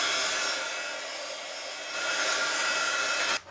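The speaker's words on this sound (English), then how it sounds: "I'm going to dry it off with the heat tool." Heat tool blowing hot air to dry paint on embossed flowers, a steady loud whooshing roar like a hair dryer running nonstop before it cuts off abruptly at the end.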